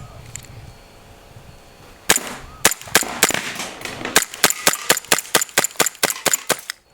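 A BB pistol fires at balloon targets, about a dozen sharp, loud cracks coming in quick irregular succession after a quiet start, then tightening into a fast, steady rhythm.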